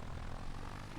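Stinson aircraft's piston engine and propeller idling steadily on the runway in a flight simulator game, a constant low droning hum with no breaks, heard alone.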